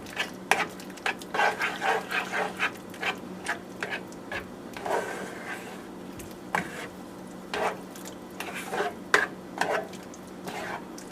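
Ackee and veggie chunks stirred in a pot, a spoon scraping and clacking in irregular close strokes with soft sizzling between them, no talk.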